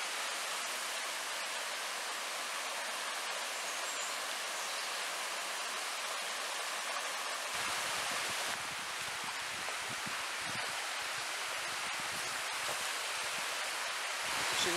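Continuous rushing of a river flowing along a water trail near Old Kavala, Greece, a steady broadband wash that grows fuller and more turbulent halfway through, with no voices.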